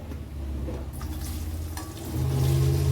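Sliced onions, about one and a half kilos cut lengthwise, fry in oil in a pot for chicken biryani, giving a steady close sizzle that swells louder near the end as more onion goes in.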